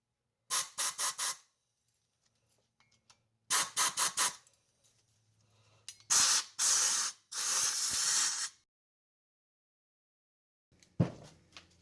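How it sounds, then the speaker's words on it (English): Compressed air blasts clean a brake caliper being rebuilt: bursts of loud hissing spray, first rapid short puffs in two groups, then two longer sustained blasts, with a brief final puff after a pause. "Cleaning with compressed air."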